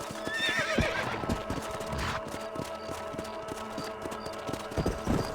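Horses in Red Dead Redemption on PS5 at a cattle ranch, with steady clip-clop of hooves near and rhythmic plus a whinny near the start, all under faint ambient noise.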